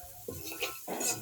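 Fried cashews are stirred in a pan, making a brief, close burst of scraping and rustling over a soft sizzle that lasts about a second.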